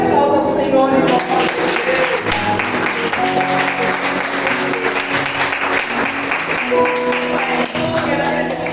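A church congregation applauds during a worship service, sustained loud clapping from many hands spreading through the room for several seconds, with faint voices and music mixed underneath.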